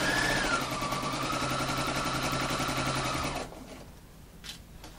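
A sewing machine stitches fabric tubing for bias strips at a short 1.5 stitch length, giving a steady, close mechanical whir for about three seconds before it stops and falls quiet.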